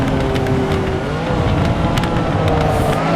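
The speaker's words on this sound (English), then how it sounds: "Just gonna stick that tail end of the car out and drift away" A car drifting in a VR sim racing game: a loud, continuous engine drone with shifting pitch and tire squeal as the tail slides out, no voices.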